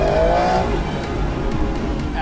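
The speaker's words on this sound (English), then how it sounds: "Absolutely beautiful noise that you only get from a 12-cylinder engine." Aston Martin V12 Vantage S twelve-cylinder engine blares loud and close, a rich continuous exhaust roar with a rising tone at the start, alongside a faint squeal of tyres.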